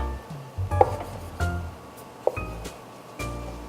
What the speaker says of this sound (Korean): 그래서 포개 놓고 가늘게 채쳐주세요.